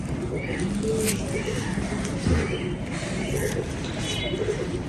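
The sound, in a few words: teddy pigeon cooing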